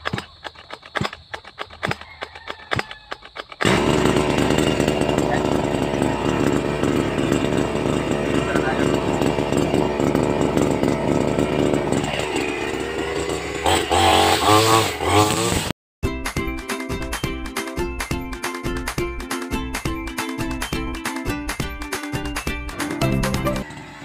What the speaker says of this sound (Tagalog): mag-grass cutter na tayo para matapos na to